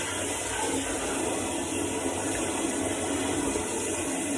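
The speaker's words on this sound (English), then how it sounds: "Lift this out. I'm going to stir it." Water sloshing and churning steadily as fabric is stirred in a dye bath while dyeing a t-shirt orange, a continuous close liquid swirl with no talk.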